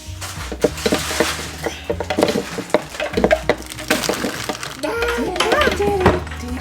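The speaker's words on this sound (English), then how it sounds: "You want to give that a stir?" A spoon stirs chia seeds and fruit in a bowl, soft scraping and clinking taps close by, mixed with a voice and an adult talking.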